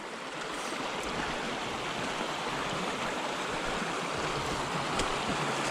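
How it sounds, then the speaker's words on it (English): A very small creek flowing in the woods near an old iron furnace, a steady broadband rush of water close by with no other sounds. "Very small creek."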